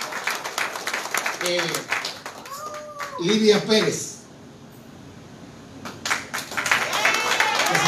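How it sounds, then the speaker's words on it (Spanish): A church congregation at a Sunday sermon gives a young woman a round of applause. Scattered clapping comes at the start and end, while a preacher's voice talks over it and calls out names. "Denle un aplauso"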